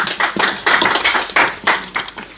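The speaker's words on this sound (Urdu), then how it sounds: "آپ کی بھرپور تالیوں میں عابد علی بیگ صاحب." A short burst of clapping from a small group, uneven and lively, with no talk, at a poetry recital (mushaira) in Pinner, London.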